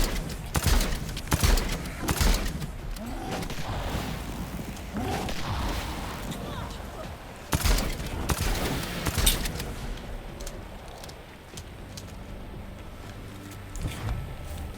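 Repeated gunfire from a Dead Island 2 game scene: sharp, loud bursts of shots at irregular intervals, some clustered in quick volleys, with a brief lull before a few fainter shots at the end.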